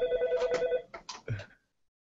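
A telephone rings with a steady warbling electronic tone, followed by a few short clicks and bumps as it is picked up, then silence.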